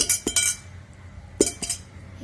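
Spicy homemade chanachur snack mix is poured into a container in a few short, crisp rattling bursts against a quiet background.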